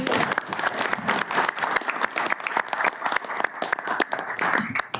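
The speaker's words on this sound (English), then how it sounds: "So why don't we give her a round of applause?" A room of attendees at a technical advisory committee meeting applauds their outgoing chair, a dense, brisk clatter of many hands clapping at once, fairly close and unbroken throughout.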